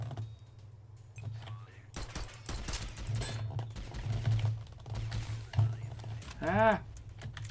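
Rapid bursts of gunfire from the video game SYNTHETIK rattle in dense clusters, joined by a rising electronic whine near the end, all under steady talking from a player.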